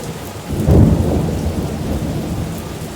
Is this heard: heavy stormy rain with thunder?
yes